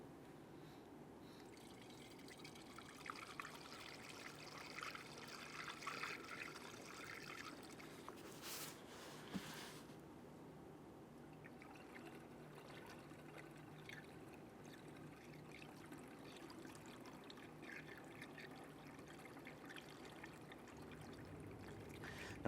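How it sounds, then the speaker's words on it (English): Coolant pours through a clean funnel into the reservoir tank of a 2011-2019 Ford Explorer, a steady soft trickle of liquid running close by for the whole stretch, with no talk. "I'm going to go ahead and fill this up into that cold level range on the tank itself."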